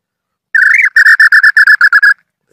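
A Bacurau Xintã nightjar gives a clear, loud call up close: one short warbling whistle followed by a quick series of about ten evenly spaced whistled notes, alone against silence.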